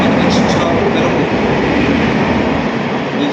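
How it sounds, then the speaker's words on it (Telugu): A Howrah to Bangalore express train passing close by, a loud continuous rushing roar of rolling railcars with rumbling wheels that holds steady throughout. "ఇప్పుడు ఈ ట్రైన్ ఒకటి హౌరా టు బెంగళూరు పాస్ అయింది"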